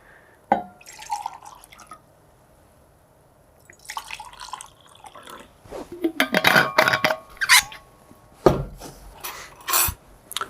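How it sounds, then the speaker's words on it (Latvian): Water being poured into two glasses for a sugar-and-salt mixing demonstration, with a few short splashing pours and clinks separated by quiet gaps. "paņemsim ūdeni. Ieliesim katrā glāzē."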